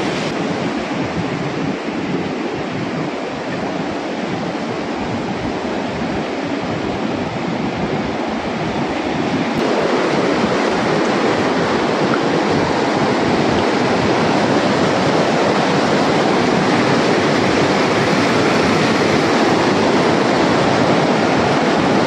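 Large flow of water rushing over a small dam on the River Thames at Reading, a continuous broad roar close by that swells louder partway through, with some wind rumble and no talking.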